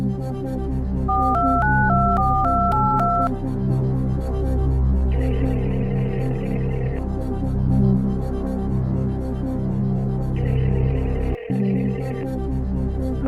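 A phone rings while a call goes out to a friend for the lifeline on a Who Wants to Be a Millionaire game show: a warbling two-tone ring repeats, then brief electronic tones follow, all over a steady, loud musical bed.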